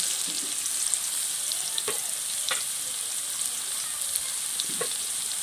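Potatoes frying in hot oil give a steady, even sizzle that fills the clip, with a few brief clicks and stirring knocks in the pan at moderate loudness and no talking.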